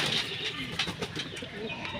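Pigeons coo softly in a short, low burst, a few close bird calls rising over faint background murmur with no clear wingbeats.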